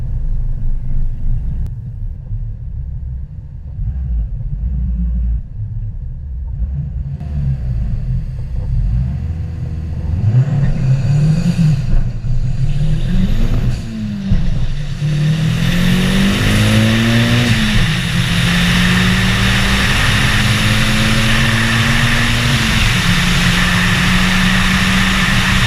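A turbocharged Hyundai Elantra makes a drag racing launch and pass. A steady low rumble builds into loud engine revving that climbs and drops through the gears and holds strong to the end.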